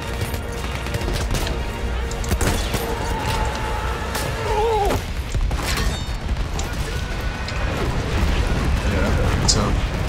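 A grenade explodes with a heavy boom in the Battlefield 1 video game, set within a dense, noisy battle mix of rumbling blasts and scattered gunfire.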